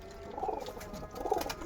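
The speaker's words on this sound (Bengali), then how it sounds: "ধাড়ি পায়রা" An adult red pigeon coos softly nearby, two low, throaty calls separated by a short pause against quiet background noise.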